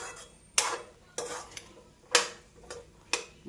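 A dry, gravy-less chickpea dish stirred in a pan: five sharp, close scraping strokes spaced about half a second to a second apart, each fading quickly, with no voices.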